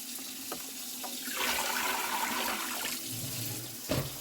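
Potatoes rinsed under a running kitchen tap, water rushing loudly into a sink for a couple of seconds before easing off, with a knock near the end.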